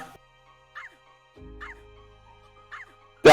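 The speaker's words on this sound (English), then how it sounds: "That's a dog." A dog gives three short, separate barks spaced about a second apart, thin and moderately distant, with a low rumble in between and a sharp knock at the end.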